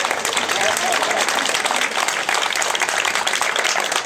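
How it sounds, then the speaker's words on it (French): Crowd applauding the winner of the first stage of the Saint-Brieuc Agglo Tour cycling race, a steady, loud burst of clapping with voices mixed in. "On applaudit très chaleureusement Adrien Quignot, vainqueur de la première étape."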